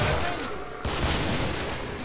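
Gunfire from the zombie shooter Killing Floor rings out as a dense, loud volley of overlapping shots, with a sharp fresh burst midway through the two seconds and no speech over it.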